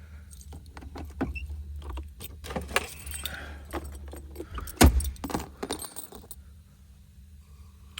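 Keys to a 1995 Jeep Cherokee XJ jangle and clink in a handful close by, with a sharper metallic clatter partway through, then the sound settles into quiet.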